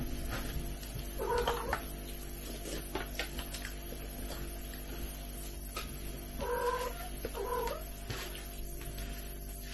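A house cat asks for a taste of rolls with salty sauce at a mealtime, giving three short, close meows spaced apart over a quiet indoor background.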